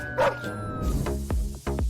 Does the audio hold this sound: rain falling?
no